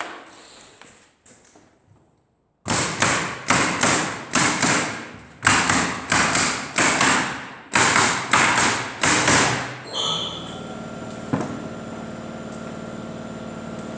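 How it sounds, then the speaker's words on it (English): Wooden boards being nailed up with a hammer, the front of the structure done in about a dozen boards: a loud, close series of sharp thuds in quick clusters, followed by a quieter mechanical hum. "So I just make sure it's all bang in line before I nail it up."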